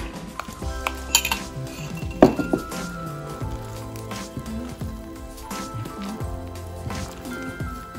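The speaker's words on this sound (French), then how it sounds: "Là, je mélange ma levure et le lait." Yeast and milk stirred together in a bowl, giving repeated clinking and scraping of a utensil against the dish with soft squishy liquid sounds, close and intermittent, with faint talk nearby.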